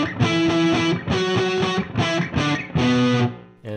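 Electric guitar chords played through an MXR Timmy overdrive pedal with bass and treble turned fully down, four distorted strummed chords in a row separated by short gaps, loud and close with no talking.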